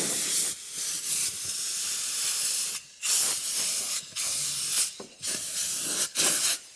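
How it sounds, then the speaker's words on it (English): Compressed air blasts grit out of car seat seams in close, loud hissing bursts, several spurts separated by short pauses. "blow out grittiness from in between the threads, the patchings of the seat, the different sections"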